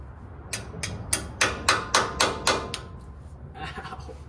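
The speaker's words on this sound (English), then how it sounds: "All right, got my hammer." Hammer strikes, about nine sharp evenly spaced blows on a hard surface, close and fairly loud, then a few softer taps, during brake and headliner work on a 1978 Ford F100.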